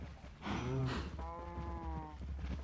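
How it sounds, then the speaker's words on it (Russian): Minecraft cows giving a couple of low, drawn-out moos, fairly faint and close, one short call followed by a longer droning one. "Коровки, кушайте, кушайте, кушайте, хорошие."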